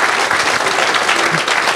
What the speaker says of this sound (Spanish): Si le va a aplaudir, apláudale con todo su corazón.